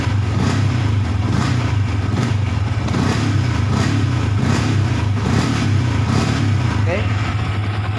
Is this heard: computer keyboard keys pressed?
no